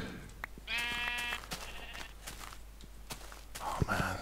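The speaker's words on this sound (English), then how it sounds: "Let's go find a sheep. There's a sheep." A sheep in Minecraft bleats once clearly and fairly loudly, followed by soft footsteps and a second fainter bleat near the end.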